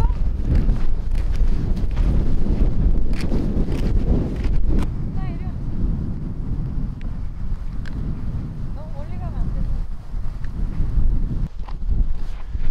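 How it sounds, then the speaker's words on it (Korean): Heavy wind buffets the microphone in a steady low rumble throughout, with a few faint voices in the background. "바람 소리 많이 들어가겠다."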